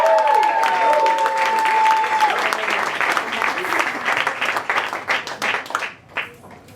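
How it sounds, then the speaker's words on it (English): Applause from an audience at a storytelling event, loud and dense at first and then thinning into scattered claps before stopping, with a brief whistle-like tone early on and no talk over it. "So, big round of applause for the bravery of Maggie kicking it off tonight."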